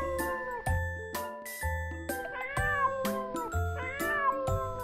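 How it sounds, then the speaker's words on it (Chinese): A cartoon cat meows in a Peppa Pig episode, a run of several close, clear meows with a tuneful, musical quality. Light chiming, tinkling sounds mix in, and no one speaks. "这时屋里的小猫走了出来"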